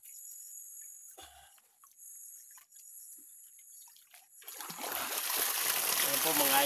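Strong water flow from a 250-meter hose gushing and splashing into a tilapia fishpond, starting faintly and growing to a loud, steady rush over the final seconds, with an earlier stretch of near silence and a constant high hiss.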